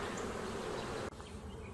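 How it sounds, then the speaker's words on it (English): Honey bees swarm around a hive during a spring inspection, a close, continuous buzzing drone that dips abruptly for an instant partway through and then resumes slightly softer. "That's a beautiful colony of bees"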